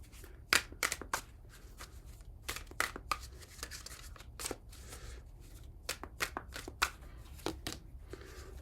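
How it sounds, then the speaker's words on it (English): A deck of tarot cards is shuffled by hand, giving bursts of crisp riffling and slapping card noise in irregular clusters over a quiet room, close and fairly soft. "What I'll do is give these cards a shuffle, and I'll take the top of the deck and the bottom of the deck."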